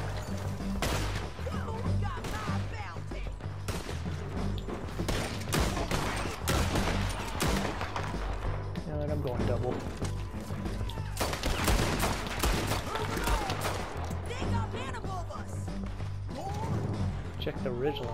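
Dense Red Dead Redemption 2 gunfight with rapid, overlapping gunshots cracking continuously throughout, loud and close, mixed with sharp impacts and game sounds.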